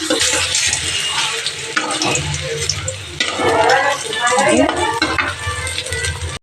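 Eggplant slices fry in a pan at home with loud, close sizzling and sputtering, mixed with clattering and some voices in the background.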